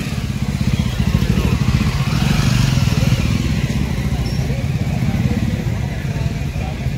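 Large group ride of around a thousand motorcycles at a Har Ghar Tiranga rally in Rajasthan, a dense, continuous rumble of many engines idling and revving nearby, steady and loud throughout.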